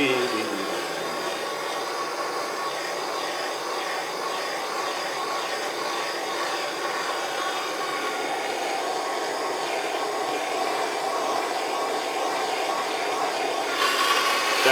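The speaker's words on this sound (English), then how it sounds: "Excite it with this torch." A handheld blowtorch flame plays over a freshly assembled clay teapot to dry it, making a steady, close roaring hiss that holds evenly throughout and grows slightly louder at the very end.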